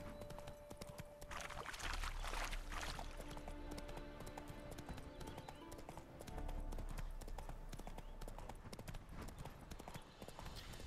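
Rhythmic hooves clip-clop steadily over a game soundscape in The Witcher 3: Wild Hunt – Hearts of Stone, with a horse snorting and faint background effects throughout.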